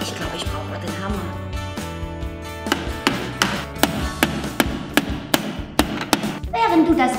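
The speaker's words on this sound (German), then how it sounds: "Ich glaube, ich brauche mal den Hammer." Sharp hammer strikes ring out one after another at a steady pace, mixed with clattering and some talking in the background.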